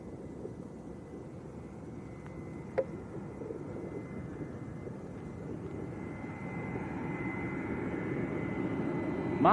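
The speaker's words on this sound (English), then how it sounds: "That was the EasyJet just turning in on finals in the background." EasyJet airliner turning onto final approach at Arrecife Airport, Lanzarote: a faint, distant jet engine rumble that swells slowly across the clip, with light outdoor background noise.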